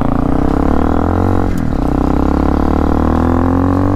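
A cheap 11 horsepower enduro motorcycle accelerates at full throttle on a street, its loud, buzzing single engine drone steady and close, pitch rising gradually after a brief dip.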